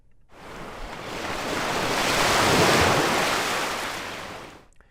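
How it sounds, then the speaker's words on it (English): Scratch's stock ocean wave effect: a broad hiss of surf that swells up, peaks mid-way and washes back down over five seconds, heard alone with no talking. "And one is called ocean wave."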